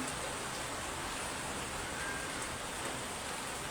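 Steady rain hisses evenly throughout, a broad constant wash of falling water with no speech over it.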